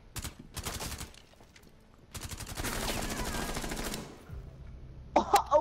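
Rapid automatic gunfire rattles in bursts during a Rainbow Six Siege match on the Skyscraper map, with a short pause and then a longer sustained volley, close and loud.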